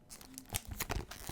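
Plastic wrapping on an Alpha Clash pre-release kit tears and crinkles at close range in a few quick, quiet bursts.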